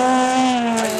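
A Honda rally car at the Saaremaa Ralli 2011 roars past close by, its loud engine note sliding down in pitch over about a second as it goes by.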